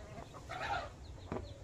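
A mother hen clucks at feeding time, several soft, short clucks at moderate distance, fairly quiet against faint background noise.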